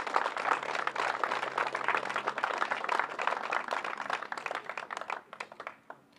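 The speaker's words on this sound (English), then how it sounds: "can we give the coaches here a round of applause" A crowd at a community gathering with local officials and groups applauds the youth coaches, a dense, steady patter of clapping that holds for several seconds and then thins out to a few last claps.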